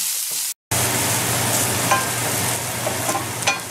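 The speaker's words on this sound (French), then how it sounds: "vous allez faire revenir tout ça le temps que les oignons deviennent un peu dorés." Onions and curry leaves frying in a pan over medium heat for masala dosa filling: a continuous close, loud sizzle with a brief cutout near the start, plus occasional light scraping stirs and soft pops.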